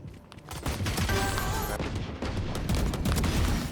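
Dense bursts of rapid gunfire and explosions fill a shooter video game, with loud overlapping shots continuing steadily throughout.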